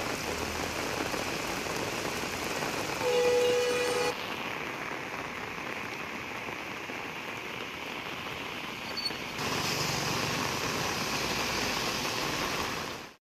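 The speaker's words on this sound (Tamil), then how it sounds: "இடி மின்னலுடன் பெய்த கனமழையால் வெப்பம் தணிந்தது" Heavy rain pours steadily during a thunderstorm, a dense, continuous hiss of downpour that stays loud and unbroken throughout, with only slight shifts in intensity and no voices.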